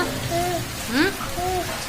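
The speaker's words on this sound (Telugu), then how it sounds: "చూడు వర్షం చూడు ఎలా పడుతుందో." Heavy rain falling outside, a steady dense hiss of drops on surfaces beneath brief voices talking nearby.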